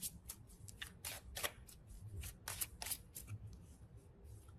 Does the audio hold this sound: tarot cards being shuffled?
yes